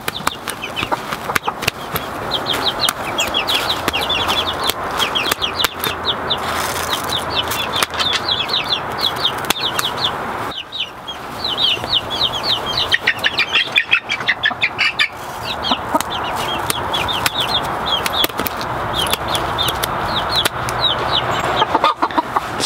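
A flock of chickens clucks and chatters continuously at close range, with bursts of wing flapping and a brief lull midway before the busy clucking resumes.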